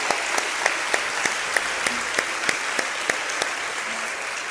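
Church congregation claps in steady, sustained applause filling the room, with sharper individual claps standing out at a fairly regular pulse over the dense wash of hands.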